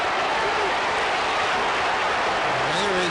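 Large football crowd at a St Kilda v Carlton AFL match in 2005, a dense, steady roar of cheering and noise filling the stadium, with a commentator's voice faintly riding over it.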